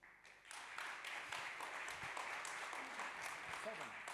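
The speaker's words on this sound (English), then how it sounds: "let's give them another round of applause for V2" Conference audience applauding after a talk, a broad, steady wash of many hands clapping that starts within the first half second and keeps up evenly at a distance, with voices faintly underneath.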